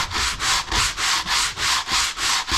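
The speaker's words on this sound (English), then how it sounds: "I just wrap sandpaper discs around this this spreader and work it hard" Rhythmic back-and-forth strokes of sandpaper wrapped around a spreader, worked hard along the caulked seams of a wooden boat's teak deck, about five even rasping passes close up with no talking.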